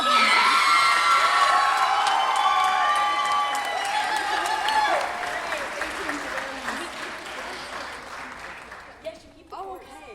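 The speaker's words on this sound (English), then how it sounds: "Once more time, round of applause for our seniors." Audience applause for seniors at Stamford High School spring concert, loud sustained clapping with whoops and cheers that gradually thin out, with voices talking over the fading crowd.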